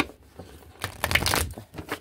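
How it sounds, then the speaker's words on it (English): A deck of cards is shuffled, a few bursts of papery riffling and crinkling with quiet gaps between them, close and moderately soft. "So let me shuffle a couple more times here"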